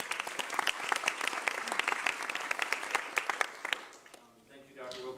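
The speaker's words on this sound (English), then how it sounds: "Kelly, we're going to clap for you" An audience applauds a teacher of the year with brisk, dense clapping that continues steadily for several seconds, then fades out as a voice begins speaking.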